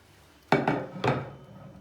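A pot lid comes off a pot of rice pilaf with three quick metallic clanks and clatters close by, followed by a short fading ring.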